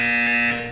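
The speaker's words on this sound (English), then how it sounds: "You will hear a buzzer." A sustained electronic buzzer from the video game Portal 2 sounds alone for under a second, steady and loud before tapering off.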